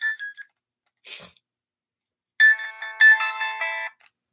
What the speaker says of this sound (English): That was a back talk ringtone.